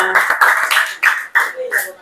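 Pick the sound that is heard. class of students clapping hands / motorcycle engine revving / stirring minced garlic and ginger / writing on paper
class of students clapping hands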